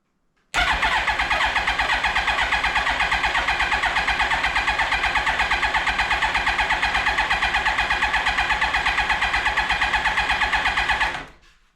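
A 2003 Yamaha R1 motorcycle engine cranks over steadily on the starter with the throttle wide open and a spark plug out for a compression test, a fast even rhythmic churn running continuously for about eleven seconds, close and loud.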